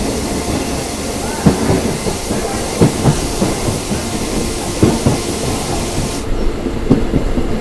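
A local train between Bangarapete and Kolar rumbles steadily along the rails, with periodic clickety-clack thumps from the wheels over track joints and a broad hiss, fairly loud and close.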